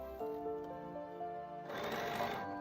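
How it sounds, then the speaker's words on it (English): A sewing machine stitches around a quilted stocking, its motor whirring in short tonal runs and then a faster, busier rattling burst, close and fairly quiet. "I'm going to sew this all the way around."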